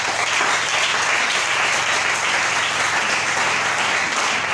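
A church congregation applauds steadily and loudly throughout, a dense sustained clapping with a few voices mixed in.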